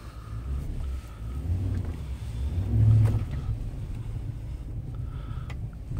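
A 4x4 vehicle crawls slowly through snow on a New York City street during the first blizzard of 2016, its low engine rumble steady and close, swelling briefly near the middle with wind-like hiss throughout.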